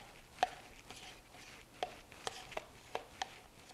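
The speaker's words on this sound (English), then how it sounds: "now, I'm just gonna spoon in my sour cream" Sour cream is spooned into a bowl for a fruit dip made with instant pudding, heard as a handful of soft, irregular taps and scoops of the spoon against the bowl, quiet and close with no voices.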